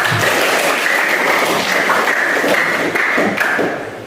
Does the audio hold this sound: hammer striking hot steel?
no